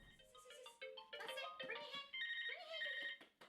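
A telephone rings with a bright electronic melodic tone, repeating in quick patterned bursts that run steadily and fairly clearly for several seconds, with no talking.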